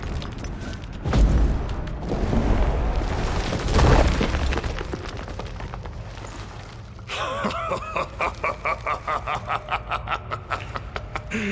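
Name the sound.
stalagmites being destroyed in the video game The Witcher 3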